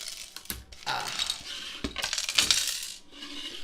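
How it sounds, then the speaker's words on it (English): Small hard plastic LEGO pieces rattling and clattering together, a shaken jumble of clicks, loud and close with brief pauses. "That's the sound of extra pieces."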